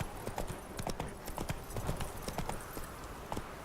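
Hooves of the horse in The Witcher 3 clip-clop in a quick, steady galloping rhythm, close and fairly faint, with no voices over them.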